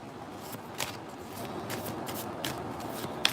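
A tarot deck is shuffled by hand before a single card is drawn, making soft, steady riffling and sliding card noises close by, with a small tap near the end and nobody speaking.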